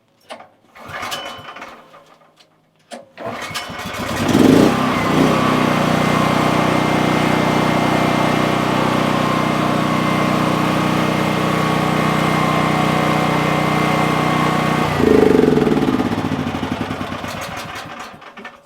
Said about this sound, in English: electric start generator. It has a backup pull start just in case.